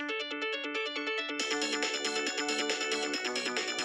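A Nokia ringtone plays alone as a bright, steady electronic melody of repeated stepping notes, becoming fuller and louder partway through.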